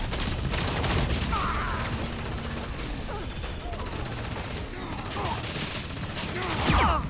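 A machine gun in the shooter game LawBreakers fires in long rapid bursts, a dense rattling fusillade that runs nearly throughout with brief pauses, while someone talks over it.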